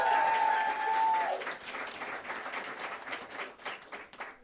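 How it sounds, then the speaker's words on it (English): Audience applause at the Salford Journalism and PR Awards 2025 ceremony, honouring the judges: a dense wash of clapping that starts loud and gradually thins and fades over several seconds, with a brief tone at the start. "a big round of applause for all of our judges"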